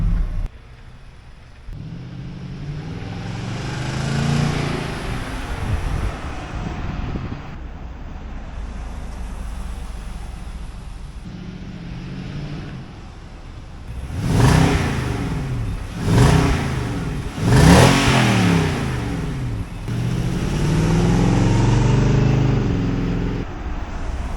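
A 2019 Nissan Titan pickup truck engine idles with a low rumble, then revs sharply several times in quick succession before settling back into a steady growl.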